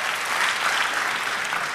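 Dense, even applause from a church congregation during a Spanish-language sermon, a full, continuous crowd of clapping hands with no pauses across the short stretch.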